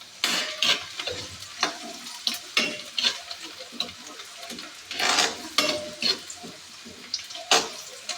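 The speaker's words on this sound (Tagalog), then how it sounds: "Pagkatapos po ng luya, sunod natin ang sibuyas." Sliced onion dropped into a hot pan already holding ginger, sizzling and crackling in bursts as it is stirred and tossed, with scraping spatula strokes and clinks at close range while cooking papaitan beef offal.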